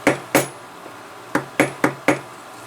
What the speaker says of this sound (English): I'll just verify with my maul